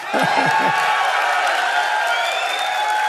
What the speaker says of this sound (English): can we now get a huge round of applause for Matt Booty?